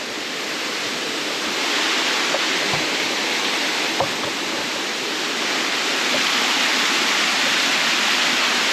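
Steady, dense roar of the waterfall at Rattlesnake Falls in State Game Lands 221, heard up close as a continuous broadband rush with a few faint clicks, no voices.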